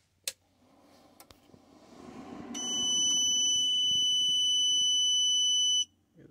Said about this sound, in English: We have the starting beep